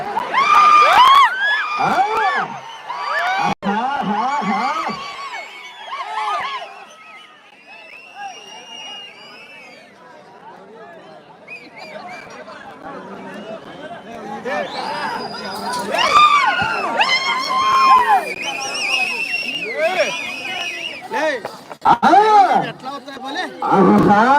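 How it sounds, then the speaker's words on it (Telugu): Crowd at a bull race in Kothakota shouting, whooping and whistling, loud bursts of cheering at the start, a quieter stretch in the middle, then the roar builds again toward the end with sharp whistles cutting through. "కేకలు విజిల్స్"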